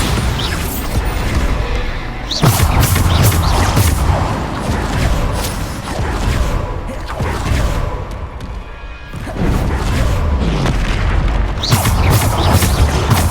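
Bombarda spell explosions in a Harry Potter wizarding video game: repeated heavy booms and crashing impacts, some seconds apart, amid continuous loud combat noise and clatter.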